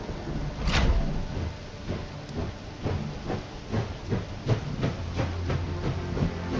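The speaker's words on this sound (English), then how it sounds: "All right, let's start the train." A steam train starting up in the video game Last Train Home, with an initial hiss of steam followed by a train of rhythmic chuffs and clanks building steadily, fairly close.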